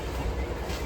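Passenger train on a morning run from Mumbai toward Gujarat, heard from a seat inside the carriage: a steady, loud low rumble with continuous wheel and track noise and no voices.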